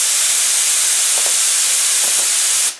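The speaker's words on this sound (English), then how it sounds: "take the air compressor nozzle, put it right underneath the hot glue, and aim it where you want to go" Air compressor nozzle blasting air beneath a hot glue gun to blow spider web strands for a haunted house maze: a loud, continuous close hiss of rushing air that cuts off abruptly at the end.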